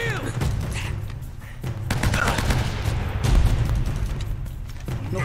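Rapid gunfire bursts in the video game Uncharted: Drake's Fortune, dense volleys of shots and thuds crackling throughout, close and loud, with occasional shouted voices mixed in.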